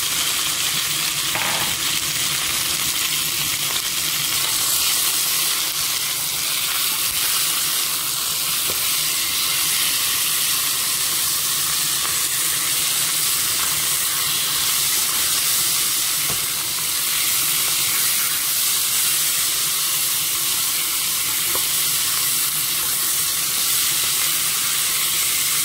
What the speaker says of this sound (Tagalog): ilalagay na natin ang chicken wing